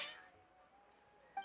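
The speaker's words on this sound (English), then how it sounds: "Your cats seem pretty worked up." Cats meowing in Genshin Impact, a short high mewing cry at the start followed by a quieter tail and another brief cry near the end, faint and close.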